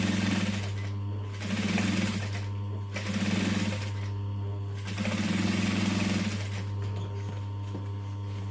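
Sewing machine backstitching a bag lining seam, stitching in several bursts of steady mechanical whirring with short pauses between, close and loud over a constant low motor hum.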